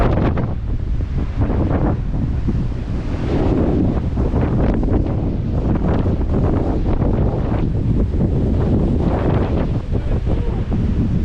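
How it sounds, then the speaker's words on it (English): Strong wind buffets the microphone at the Blackwater Falls State Park viewpoint in West Virginia, a loud, continuous roaring rush with gusty surges throughout, and a voice can be heard faintly under it. "The wind is ferocious up here."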